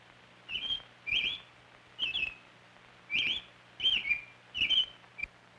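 American robin giving repeated short whistled chirps in sets of two or three notes, clear and fairly close, over a quiet background hum.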